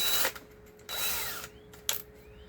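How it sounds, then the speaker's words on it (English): Power drill fitted with a larger bit bores into plastic, whining in a few short bursts with brief pauses between. "Get my bigger drill bit."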